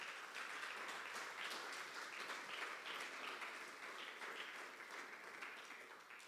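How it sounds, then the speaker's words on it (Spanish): Sustained applause from a church congregation during a sermon, a dense, steady wash of many hands clapping that holds evenly for several seconds without voices. "Dale un aplauso a Cristo."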